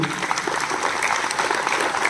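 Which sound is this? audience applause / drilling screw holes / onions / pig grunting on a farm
audience applause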